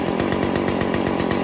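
A Stihl FS 40c weed eater's small two-stroke engine idles close by, a rapid, steady popping rhythm that sounds rough and ready to stall.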